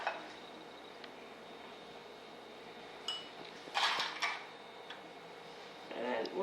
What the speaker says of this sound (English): we're going to add the vanilla to this mixture and just mix it for a little